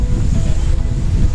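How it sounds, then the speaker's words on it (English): Waterfall at a natural swimming pool in Meghalaya, India, roaring as a steady, dense wash of falling water mixed with wind buffeting the microphone, loud and continuous with no voices. "we're at the JANAILAR waterfall and swimming pool"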